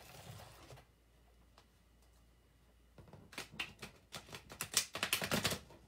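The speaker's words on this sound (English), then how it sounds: "Let me shuffle really quickly." Playing cards are riffled and shuffled quickly close by, starting with a soft brief rustle, then a pause, then a dense burst of rapid crisp flutters and snaps toward the end, with no talking.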